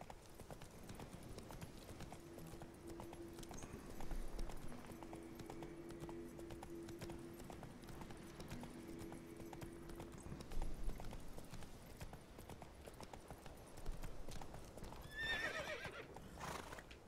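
Horse hooves clip-clop at a trot and canter in the Witcher 3 video game, a steady rhythmic beat close up, with a horse neighing and whinnying near the end.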